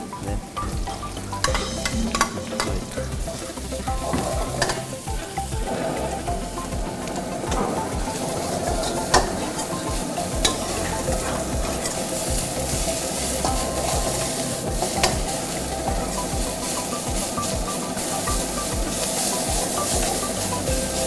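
Sliced onions fry in hot ghee for a Malabar dish, giving a continuous loud sizzle with occasional stirring scrapes and clinks. No one speaks.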